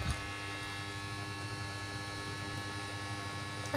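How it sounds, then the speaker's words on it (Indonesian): A home air conditioner gives off a steady, even electrical hum with a low droning buzz. It holds at constant moderate loudness through the whole stretch, with no voices over it. "Itu AC aku bunyinya kayak ngegas gitu."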